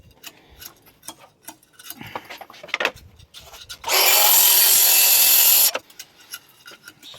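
A track saw cuts along a marked line on an existing wooden staircase while a newel post is being fitted. A loud, steady roar lasts under two seconds, with scattered knocks and taps before and after.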